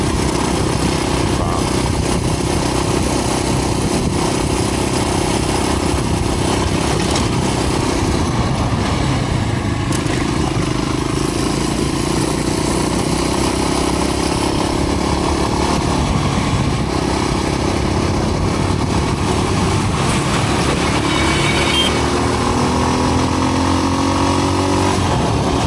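Motorbike engine idling in the Nigerian mountains near the Cameroon border, a steady, continuous close engine drone holding for the whole clip with slight variations near the end.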